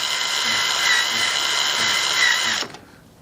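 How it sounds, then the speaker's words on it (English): An electric drill turning over a Webster engine against compression, a loud close steady whine whose motor pitch sags rhythmically about twice a second under load before cutting off abruptly. "You can hear the motor in the drill picking up the load when compression comes on."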